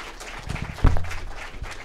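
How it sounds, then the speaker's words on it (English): A Startup Grind audience in Silicon Valley claps for author Adam Lashinsky, a fairly close, brief patter of applause with a single louder thump partway through. "Can we give Adam a big, big, huge round of applause?"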